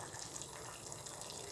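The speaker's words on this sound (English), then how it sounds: "So like I said, I have to add more water" Tap water runs in a steady, soft broadband rush, poured to top up a pot of boiling chicken; it is continuous and fairly faint.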